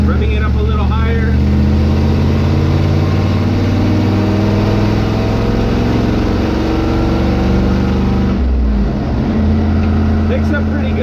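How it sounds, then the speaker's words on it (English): A carbureted LS 5.3 V8 swapped into a Dodge W100 pickup revs higher while towing, a loud, sustained drone with rising pitch through a corner, briefly dipping near the end before holding steady. "Revving it up a little higher."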